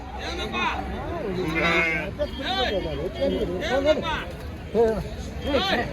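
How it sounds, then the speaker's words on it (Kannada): Sheep and lambs bleat over and over at the Kerur livestock market, many calls overlapping up close, with a murmur of crowd talk underneath. "ಇದೊಂದು ಕುರಿ ಅದೊಂದು ಮರಿ."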